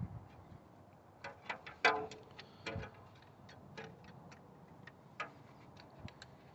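A 10 mm wrench loosening the camshaft position sensor bolt on a 2006 Chevy Trailblazer 4.2, giving a series of sharp, quiet metallic clicks at an irregular rhythm, heard close and alone.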